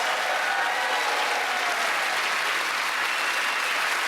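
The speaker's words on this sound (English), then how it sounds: "that round of applause for Ed," Sustained, full applause from a TV comedy panel show studio audience cheering comedians Ed Gamble, Kerry and Rhys, thick steady clapping at constant loudness throughout.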